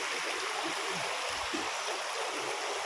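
A small stream flowing steadily, a close, continuous broadband rush of running water that stays even throughout with no voices over it.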